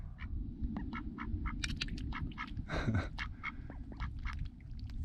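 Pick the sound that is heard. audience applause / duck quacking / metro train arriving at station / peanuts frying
duck quacking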